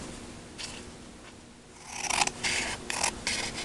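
Card being cut for a die-cut project, a few short papery scraping and snipping strokes, faint at first and then a quick cluster of louder cuts close to the microphone.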